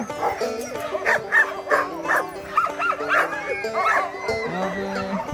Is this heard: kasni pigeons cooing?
no